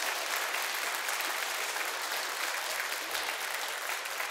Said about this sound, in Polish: Brawa, drodzy Państwo, oczywiście.